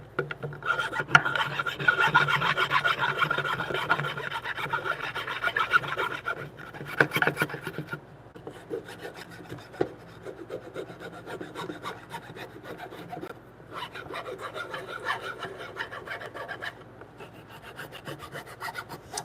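Steady rasping strokes of a hand file smoothing a wooden mortise in a timber frame bunk bed joint, close and continuous with brief pauses between bursts.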